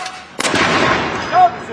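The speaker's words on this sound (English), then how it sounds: "This is called the Death Gun Salute" One artillery round of the death gun salute for Queen Elizabeth II goes off with a sudden sharp crack and a brief rumbling tail, loud and open-air, with a faint shouted command at the end.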